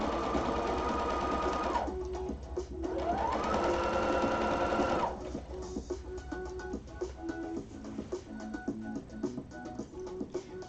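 Sewing machine stitching right along the edge of satin fabric, running in loud continuous bursts with a steady motor whine that pauses and restarts, close up and alone.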